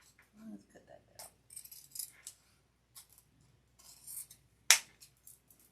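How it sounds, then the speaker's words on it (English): Scissors snip through deco mesh ribbon for a pink leopard fall wreath, a few short close crisp cuts among quiet rustling, with someone talking at intervals. "Let's cut that down a little bit."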